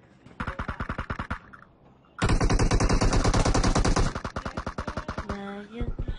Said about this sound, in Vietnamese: Bọn này bắn bạo thế, nó phi thẳng đến luôn.